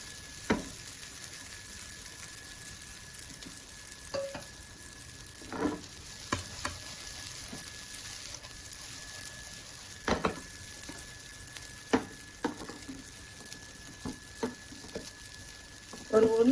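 Cooked wheat semiya (vermicelli) is stirred in a pan with a low steady sizzle underneath. A utensil scrapes and taps against the pan at intervals, and the stirring strokes land near and fairly quietly.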